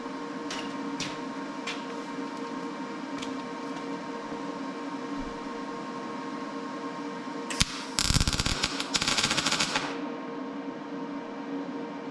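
Tack welding on a '55 Chevy quarter panel: a few faint sharp ticks over a low hum, then a loud crackling sizzle of welding lasting about two seconds before fading back to the hum.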